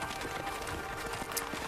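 A horse in the video game Okami gallops briefly with quick, rapid hoofbeats, faint and blended into the game's steady background sound.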